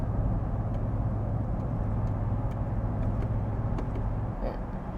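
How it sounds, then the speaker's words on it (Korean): Inside the cabin of a Genesis GV60 Magma with active sound design switched off, a low, steady road rumble and faint hum fill the quiet interior, with no one talking. "현재는 액티브 사운드 디자인을 끈 상태입니다. 되게 조용하죠."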